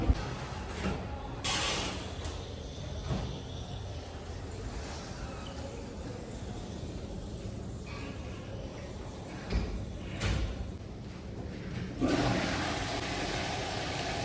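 A toilet flushes in a small washroom, a faint rushing of water spread over several seconds. A few soft door or cupboard knocks and thumps are heard around it.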